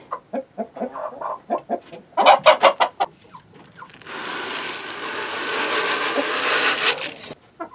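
Hens in a chicken coop at night cluck in a close series of short, rhythmic bursts, followed by a few seconds of broadband rustling and shuffling noise.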